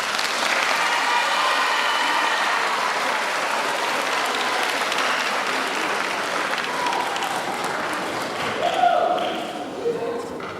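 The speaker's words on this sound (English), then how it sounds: "Can you give a round of applause, please?" A crowd at a middle school graduation ceremony breaks into sustained applause, a dense steady wash of many hands that stays loud throughout, with a few voices and cheers rising near the end.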